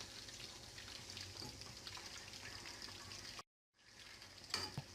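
A spoon stirs beaten egg into thickened chicken tomato soup in a pot, a steady close wet swishing and faint sizzle, with a brief drop to silence before the stirring resumes.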